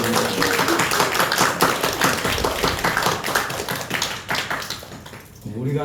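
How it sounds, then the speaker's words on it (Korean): A Korean church congregation claps together at a year-end thanksgiving worship service, many hands in a loud, dense patter that thins near the end as a voice comes in. "이 감사한 분들만 박수를 하나님 앞에 드립니다"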